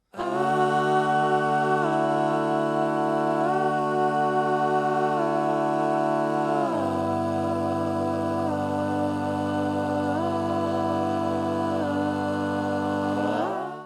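Sustained chords with stacked four-part harmonic tones on guitar shifting between positions, a thick layered riff played continuously, loud and close, changing to a lower voicing midway.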